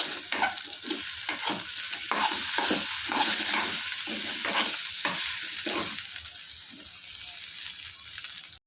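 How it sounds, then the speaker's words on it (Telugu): Eggs fry in a pan with salt for fried rice. A constant sizzle runs under repeated rhythmic scraping strokes of stirring, which ease off toward the end. "ఇలా ఎగ్స్ ఫ్రై అవుతున్నప్పుడు దాంట్లో సరిపడినంత ఉప్పు వేసుకున్నాక ఒకసారి కలుపుకోవాలి"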